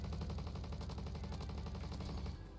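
Rapid automatic gunfire from the Roblox shooter Bad Business rattles in a fast, even burst of shots lasting about two and a half seconds, then stops abruptly.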